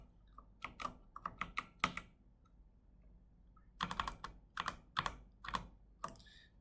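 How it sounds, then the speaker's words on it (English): Keys on a computer keyboard click in two quick bursts of typing separated by a pause, close and fairly quiet, with no voice present. "click on this word and press spacebar"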